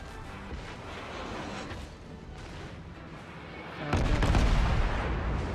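Warship guns fire in the naval battle game World of Warships, a dense rumbling barrage of booms that swells abruptly louder near the end.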